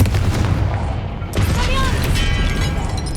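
A Confringo blast spell goes off in Hogwarts Legacy, a sharp burst at about 1.3 seconds followed by crackling, ringing magical effects over dense game noise and rumble throughout.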